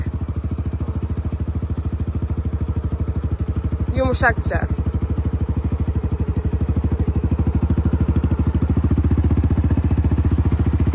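A motorcycle engine runs steadily and close by during a first riding lesson, easing forward on the clutch with no throttle. The rumble holds even throughout and swells slightly near the end, beneath instructional talk.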